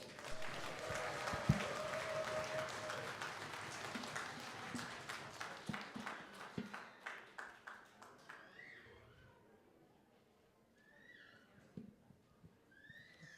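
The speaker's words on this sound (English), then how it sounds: "Please, another round of applause" An audience at a graduation celebration applauds warmly, the clapping loud at first and then thinning into scattered claps before fading to near silence, with a few faint voices at the end.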